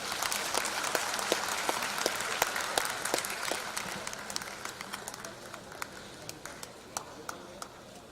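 An audience at a felicitation ceremony for former Chief Justices and judges breaks into applause, with a dense burst of clapping that gradually thins out to scattered individual claps.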